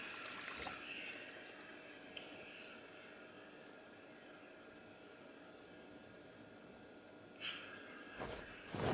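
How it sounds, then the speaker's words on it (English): In the survival game Project Zomboid, a cooking pot fills with a steady stream of pouring water that runs for several seconds under a low background hum, with brief sharper sounds at the start and end. "I'm filling a pot with water because that's important."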